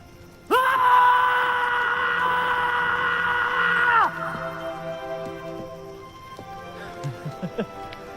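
Loud, sustained scream at full voice from a Hindi-dubbed Mahesh Babu action film, holding steady for several seconds before breaking off into lower groans and scattered shorter cries.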